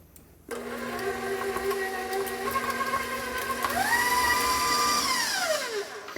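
A stand mixer with a paddle attachment beats cheesecake filling for a no-bake peppermint cheesecake, a steady motor whine that begins abruptly and holds, then shifts pitch up and slowly glides down near the end, close and loud with no talk.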